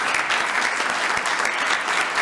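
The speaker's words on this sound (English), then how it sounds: "give her a round of applause" Audience applause at a Virginia Commonwealth Transportation Board meeting, a steady dense clapping from a room of people that stays loud and even throughout with no talk over it.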